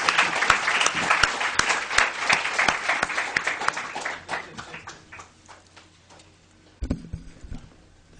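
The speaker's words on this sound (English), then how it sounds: "Let us join to applaud." A lecture audience at a Sigmund Freud memorial lecture in New Delhi gives dense, lively applause that gradually tapers off, followed by a brief rustle near the end.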